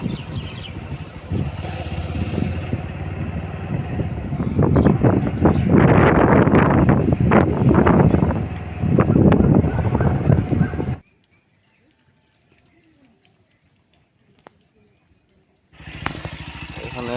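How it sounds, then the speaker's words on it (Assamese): A motorcycle is ridden along a road in Sivasagar, Assam. The steady engine drone is mixed with heavy wind buffeting at the microphone, then drops to near silence for several seconds before the ride noise returns. "এয়া বৰ্তমান মোৰ বন্ধুটোৱে ড্ৰাইভ কৰি গৈ আছে বাইক।"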